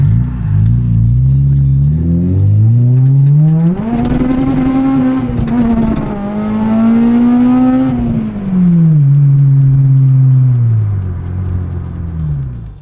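Loud, close engine revving from a Honda Integra Type R with new headers and a 3-inch catback exhaust: a low burble climbs into a sustained high rev, holds, then drops back to a rumbling idle.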